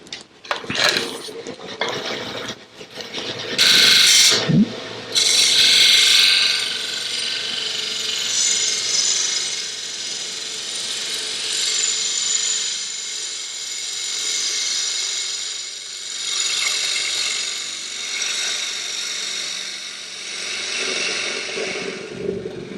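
A 1/2-inch bowl gouge cuts across the surface of a spinning lidded wooden box on a lathe, with a few sharp clattering knocks at the start, then a continuous scraping hiss of the cut over the motor's hum.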